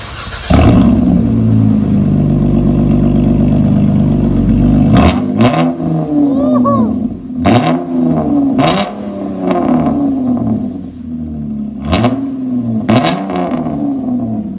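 A RAM pickup truck's deep engine rumbles at idle, then revs repeatedly in sharp bursts through a loud, throaty aftermarket Dynomax Race Bullet exhaust, each rev rising and falling back.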